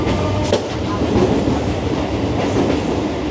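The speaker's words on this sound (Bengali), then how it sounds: "1 নম্বর প্ল্যাটফর্মে ট্রেন দিয়েছে আমাদের, এই 1 নম্বর প্ল্যাটফর্মে গাড়ি প্ল্যাটফর্মে ঢুকেছে" A passenger train rumbles along the platform at Namkhana station on the Eastern Railway, a loud continuous roll with rhythmic wheel clatter and brief metallic squeals.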